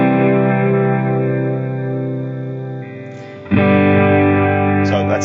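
An electric guitar runs through a delay pedal set to kill-dry, so only the echoed repeats sound: sustained, layered chords with a warbling effect wash, steady and loud, shifting to a fuller strum about three seconds in.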